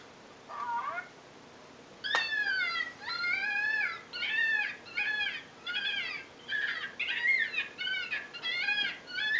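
Rapid, raspy electronic screams from a FoxPro Spitfire electronic game call imitating a screaming gray fox, repeated in quick succession, harsh and wavering, loud and close over a faint background hiss.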